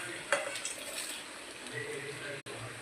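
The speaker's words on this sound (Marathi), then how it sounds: "त्याला मस्तपैकी हलवून घेऊ" Potatoes and whole spices frying in a pan as they are stirred, a steady soft sizzle with light scraping and a brief clink near the start, moderately quiet and close, no talking.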